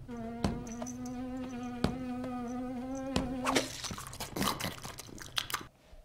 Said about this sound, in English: Did Scooby just eat a fly like a frog?